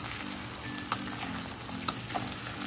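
Mutton cooking in a pan sizzles steadily and close by, a dense frying hiss with a few sharp spatters and clinks, no voices.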